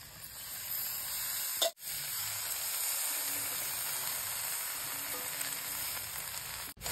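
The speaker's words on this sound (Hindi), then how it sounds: "अब इसमें पोई साग डालेंगे।" Poi saag (Malabar spinach) hitting hot spiced oil and frying with a steady, loud broadband sizzle that runs nearly unbroken, with one brief dropout, and no voices.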